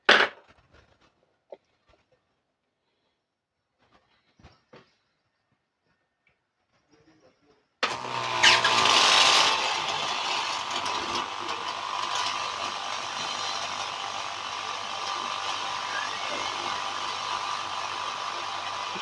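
A 12-volt DC high-pressure booster pump runs under load, starting abruptly after near silence with a loud, steady mechanical whir and rattling hum close to the microphone.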